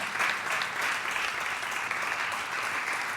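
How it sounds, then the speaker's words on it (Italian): A church congregation claps together in a steady, fairly faint wash of applause that continues for a few seconds without pause. "Applauda l'Eterno."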